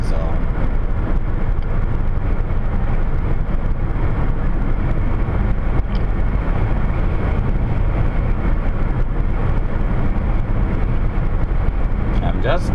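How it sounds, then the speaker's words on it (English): Car cruising on a road at about 85 km/h, a steady broadband rumble of engine, tyre and wind noise heard from inside the cabin, continuous and fairly loud throughout. "I'm just driving at the proper speed. Well, I'm a little bit over now."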